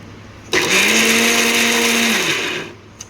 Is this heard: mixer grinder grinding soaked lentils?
yes